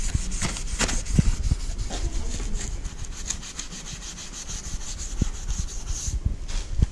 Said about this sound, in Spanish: esta es la lija 360 que voy a usar